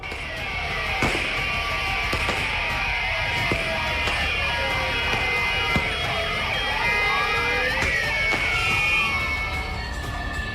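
Several vehicle sirens and hooters wail at once during a roadside stunt gathering, rising and falling continuously and loud, overlapping over constant traffic noise.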